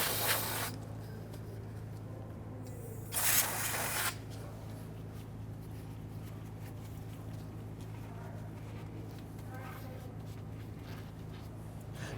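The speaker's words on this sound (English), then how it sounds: "Then we'll go ahead and spray that down, a little bit of solvent." Two short hissing bursts of solvent sprayed onto a brake hose bolt on a 2007-2014 Cadillac Escalade, close by, followed by a faint low hum.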